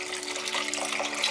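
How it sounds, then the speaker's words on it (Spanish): Water pours steadily into a pot of tomato salsa for fish in tomato sauce, a continuous close splashing stream running alone without talk. "vamos a agregar agua"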